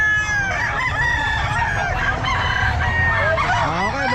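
A rooster crows loudly and close at a pet market in Bocaue, a long strained call over a dense din of other fowl clucking and crowing throughout.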